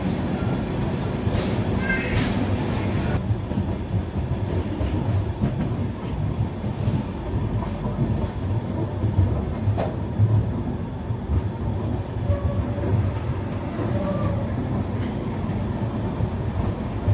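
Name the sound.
Poorna Express train running at speed after Miraj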